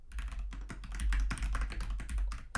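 Rapid, uneven typing on a computer keyboard while writing code, with dense clattering keystrokes and occasional heavier thumps, close and continuous.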